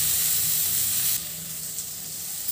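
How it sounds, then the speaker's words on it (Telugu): Tomato sizzling in hot oil in a pan along with onions for Maggi egg biryani, a steady close frying hiss that drops a little softer partway through. "టమాటా కుక్ అవుతుందండి కదండి."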